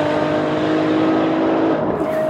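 A Ferrari LaFerrari V12 hybrid with 950 combined horsepower drives past, its loud, steady engine note holding for a couple of seconds and easing slightly toward the end.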